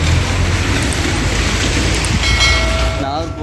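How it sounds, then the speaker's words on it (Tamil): Heavy rain pours steadily at a bus stand in Nagercoil, a dense continuous hiss with brief voices under it. "மழை மழை"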